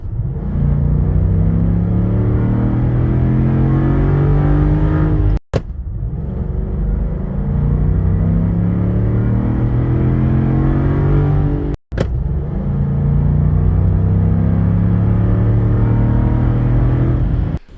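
A 2023 Land Rover Defender V8 accelerating hard, its engine revving in a loud, close rumbling pull that rises steadily in pitch through each gear, with brief gaps at the shifts.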